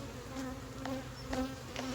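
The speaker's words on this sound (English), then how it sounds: "So what I'm going to do here is I'm going to checkerboard these bees." Honey bees buzz during an inspection of an 8-frame hive box, a faint, steady hum with individual bees drifting close and away.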